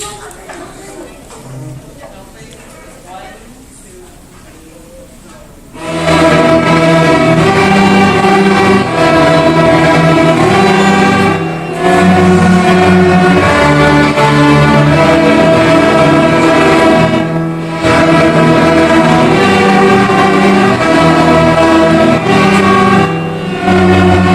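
A school band plays the snowflake theme at a winter concert, a full sustained ensemble swelling in after quiet room murmur and carrying on loud and steady with brief dips.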